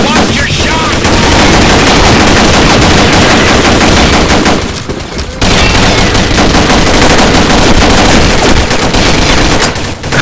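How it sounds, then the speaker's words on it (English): Gunfire in the video game Combat Arms during a capture-the-flag round, with loud, dense, continuous automatic fire, a brief lull midway, then sustained rapid bursts again. "Pura pinche balacera aquí, verga."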